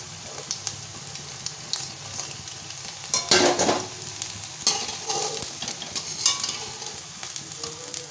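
Chicken pakora deep-fries in hot oil, giving a steady, moderately close sizzle. Scattered clicks and a brief louder burst of bubbling come as the pieces are stirred or moved. No one speaks.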